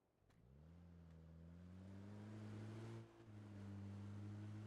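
A car engine in the battle royale game PUBG drones quietly with a steady low hum. The pitch rises as the car gains speed, dips briefly, and then holds on.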